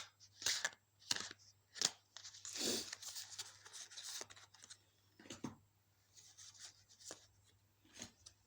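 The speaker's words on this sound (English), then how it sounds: "Let's shuffle" Tarot cards are shuffled by hand in a series of short, crisp riffles and soft rubbing sounds, heard close up and quiet with pauses between bursts.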